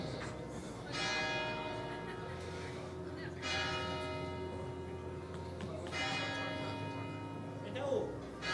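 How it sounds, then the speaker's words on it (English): Church bells toll at a Halmstad venue during a Swedish Masters event, three resonant strikes spaced a few seconds apart, each ringing out and decaying while a voice talks faintly underneath. "the bells toll once more at the Halmstad"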